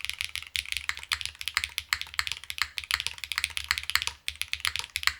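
A DNworks 02 mechanical keyboard is typed on rapidly, producing close, crisp, irregular keystroke clacks with a hollow knock from the plate striking the side of the case.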